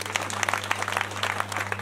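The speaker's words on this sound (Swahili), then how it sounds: "Makofi kwake." A congregation at a home mass applauds a priest with brisk, dense clapping throughout, steady and fairly close, over a low electrical hum.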